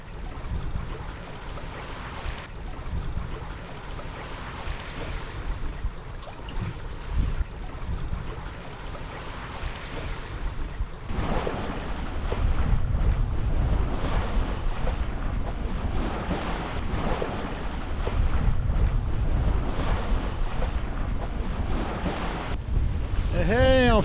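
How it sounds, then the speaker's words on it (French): Sailboat moving at about four knots, with steady wind rush against the microphone and waves washing and slapping along the hull throughout, close and continuous. "on fait de la voile à peu près à une vitesse de 4 nœuds, un petit peu plus."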